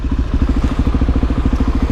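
Suzuki DRZ 400 supermotard motorcycle engine running close by, a steady, loud pulsing thump with fast regular firing beats and slight rattle throughout.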